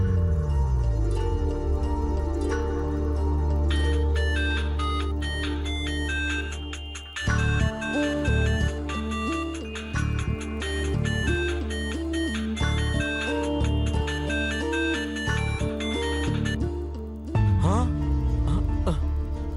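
Phone ringtone playing a repeating electronic melody for nearly twenty seconds, steady and fairly loud, with a brief pause and restart midway.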